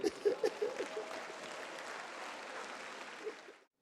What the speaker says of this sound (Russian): Дайте себе аплодисменты.